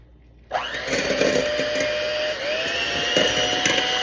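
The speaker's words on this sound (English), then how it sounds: "We're gonna blend these 2 together." An electric blender whirs steadily as it mixes oil and four eggs into banana bread batter, a loud, continuous motor drone that starts abruptly and holds with a brief dip midway.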